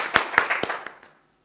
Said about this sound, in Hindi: जोरदार तालियों से स्वागत करेंगे सुनील वर्मा जी का